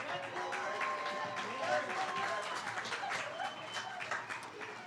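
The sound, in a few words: applause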